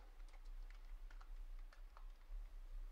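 Rapid, steady clicking of a computer keyboard as a command is typed at a command prompt, close up and alone with no talking, the keystrokes running in quick uneven bursts throughout.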